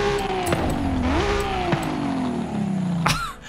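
A Toyota Supra engine in Forza Horizon 5 drones loud and steady, its pitch sliding down as revs fall, with a brief rise midway and a few sharp clicks over the top.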